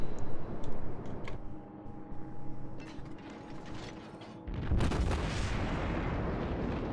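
Heavy naval gun salvo from the German cruiser Admiral Hipper in World of Warships, preceded by mechanical clanking and whirring of turret machinery, then a loud sustained blast roar that rolls on.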